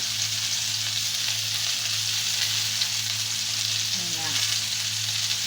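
Onion, garlic, tomato, ginger and a bird's eye chili sauté in hot oil in a pan, giving a steady, loud, close sizzle that runs throughout with faint clinks.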